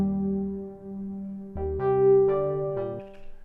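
A synthesizer tone run through a comb filter on an Elektron Octatrack, sustained and harmonically rich with ringing octave and fifth overtones that sound like guitar harmonics, shifting through a few stepped changes with no talking.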